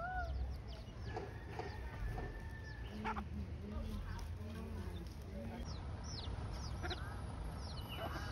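A mother hen clucks repeatedly near her chicks at the botanical gardens in Aburi, Ghana, with faint chick peeps and other birds around her and a person talking close by.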